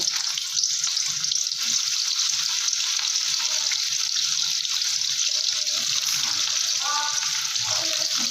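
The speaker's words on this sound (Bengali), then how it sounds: "তেল দিয়ে আমি এবারে প্রথমেই উচ্ছেটা লাল করে ভেজে নেব" Bitter gourd frying in hot oil in a wok gives a steady, close sizzle that runs through the whole stretch, with small crackles and the scrape of stirring now and then.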